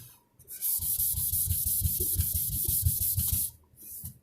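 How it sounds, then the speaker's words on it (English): Rhythmic back-and-forth rasping of a sanding block on a wooden guitar body, close and steady, about a dozen strokes in a continuous run that stops briefly near the end. "this is giving me a nice flat sanding job"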